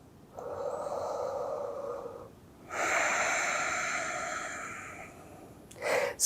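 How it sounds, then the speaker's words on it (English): A person breathes deeply and slowly during a yoga session, focusing on the iliopsoas muscles. One long audible inhale is followed by an even longer airy exhale, then a short sharp breath at the end, all close to the mic. "Connect to your breath and breathe deeply"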